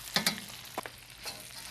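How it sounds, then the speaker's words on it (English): Food sautéing in a pan, a short burst of sizzle with a few quick stirring scrapes, close and fairly quiet, no voices. "So we're just gonna saute these in here nice."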